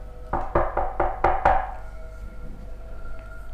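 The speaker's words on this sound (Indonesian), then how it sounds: "mendengar suara ketukan dari pintu depan" Knocking on a front door as a sound effect in a horror story, six quick sharp raps in a row, close and clear, then a quiet tail.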